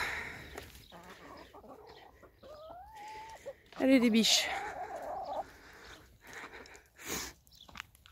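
Naked-neck chickens clucking and calling near the microphone, with a brief louder squawk midway from a young rooster, while a person speaks softly over them in French.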